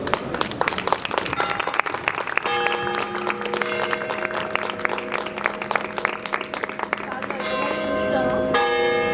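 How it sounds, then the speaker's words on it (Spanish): Church bell tolling steadily for several seconds, its sustained ringing tones layered over crowd noise and voices, growing slightly louder toward the end. "Vamos a esperar que pase la campana."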